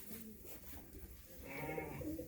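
A show ewe of a top terminal sire breed bleats on a sheep farm, a short faint wavering call rising near the end over quiet background.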